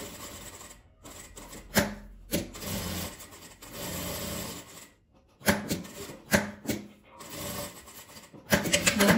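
Sewing machine stitching fabric in short bursts, starting, backstitching and running again, close and uneven with pauses between runs of the needle.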